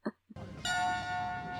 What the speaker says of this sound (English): there he goes with the gong again